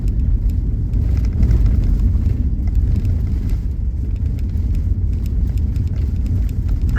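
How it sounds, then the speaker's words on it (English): Car rattling and shaking as it drives slowly over a rough red dirt backroad, a continuous loud low rumble with steady vibration and clatter, with no talk. "I know y'all hear everything in this car shaking because this road is rougher than a rub board."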